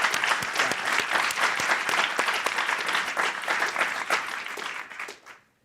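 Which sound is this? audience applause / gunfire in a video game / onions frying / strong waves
audience applause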